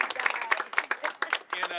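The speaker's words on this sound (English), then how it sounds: "give them a round of applause" Audience applause at a local community gathering, brief scattered clapping mixed with voices talking over it, fairly faint and uneven across under two seconds.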